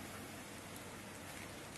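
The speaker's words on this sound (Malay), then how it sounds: "Hujan sekarang ni tempat saya." Rain falls in a steady, even hiss, faint and continuous with no other sounds over it.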